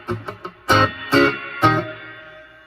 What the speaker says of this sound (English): I made a slight adjustment to the delay to give it a little bit more of a tremolo versus a delay sound